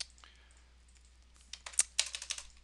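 Quick clacking keystrokes on a computer keyboard, light and sparse at first, then a denser burst of loud close taps toward the end, with no speech.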